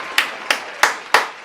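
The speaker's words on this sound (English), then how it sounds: "Applause" Five sharp, evenly spaced hand claps ring out loud and close, one roughly every third of a second, with nothing else sounding between them.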